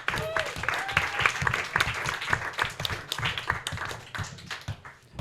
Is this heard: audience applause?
yes